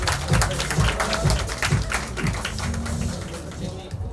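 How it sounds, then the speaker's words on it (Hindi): An audience at a film music launch event claps steadily for guests being called onto the stage. The dense applause lasts throughout and fades slightly at the end, while a voice speaks over it. "a huge round of applause for sir"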